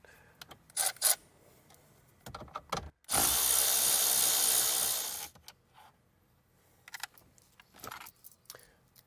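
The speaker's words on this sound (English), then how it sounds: "There's going to be four 7mm screws here that we need to unbolt out of here" Power driver removing a 7mm screw on a 2019 Ford F truck, a loud buzzing whir lasting about two seconds, framed by quieter clicks, taps and rattling of parts before and after.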